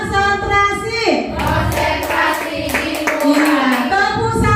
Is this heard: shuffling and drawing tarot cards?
no